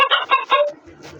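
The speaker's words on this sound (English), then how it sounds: "chicken," A chicken clucks in four quick, close, loud bursts, followed by a faint trailing sound.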